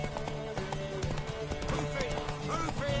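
Horse hooves clip-clop in a steady rhythm in The Witcher 3, under game music and voices talking, with the odd whinny mixed in.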